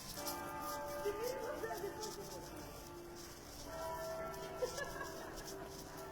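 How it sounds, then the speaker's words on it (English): Church bells ring in York, their tones lingering faintly at a distance over a steady background hum, with two clusters of ringing about three seconds apart. "we're really getting a good bell ringing"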